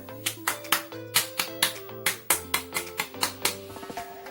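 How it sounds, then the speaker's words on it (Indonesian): Rhythmic Pramuka scout clap pattern in a Grade 3 classroom lesson, a quick series of crisp, close hand claps in a set cadence with a low sustained tone underneath, ending in softer, faster taps. "Tepuk Pramuka"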